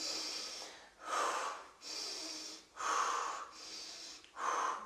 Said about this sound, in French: vous avez besoin d'hyperventiler pour faire circuler, fluidifier le sang